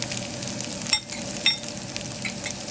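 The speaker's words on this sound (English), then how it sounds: "I fry this up, let it take some color." Onions and garlic sizzle steadily in a hot Instant Pot, a continuous frying crackle with a couple of sharper stirring scrapes.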